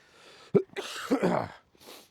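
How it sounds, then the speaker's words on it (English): One sharp cough, then a rough, throaty follow-up burst and a faint breath, close to the microphone. "excuse me, this bloody cough."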